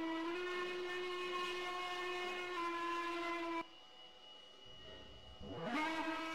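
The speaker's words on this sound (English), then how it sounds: "By 7:40, the locomotive departs yet again for Waverly Terminal" A steam locomotive sounds a long, loud, steady whistle that cuts off sharply, leaving a quieter rumble before another whistle swells back in near the end.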